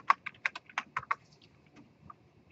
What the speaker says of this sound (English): They just hit enter without typing something.